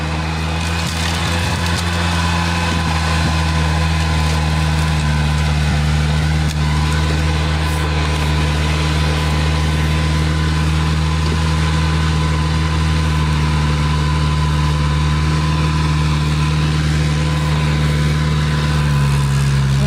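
A GAZ-69 engine drives uphill through snow, a loud continuous low droning hum that holds steady for the whole stretch, no talking.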